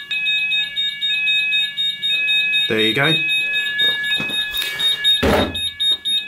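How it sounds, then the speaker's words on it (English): A building fire alarm panel sounds its steady electronic alarm tones throughout a weekly manual call point test, with people talking over it. "You can hear the fire panel going off."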